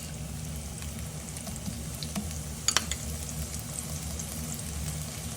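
Miso, honey and soy glaze spooned over celeriac in a hot pan, giving a steady, close sizzle and frying crackle throughout with a few sharper spits partway through.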